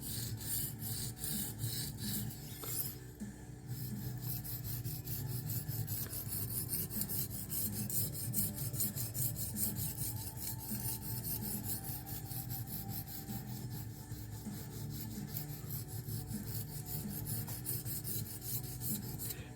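A small knife blade is sharpened freehand on a Norton India stone: a steady, continuous rasping scrape of steel on abrasive stone that keeps going at an even level for the whole stretch, with a slight shift in the stroke near the start.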